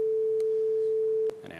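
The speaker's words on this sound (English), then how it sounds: "I'll get rid of that beep, I think, though. That's a bit annoying." A GStreamer test tone sounds as a steady, pure electronic sine beep held for over a second, then cuts off, followed by faint clicks and brief low-level noise.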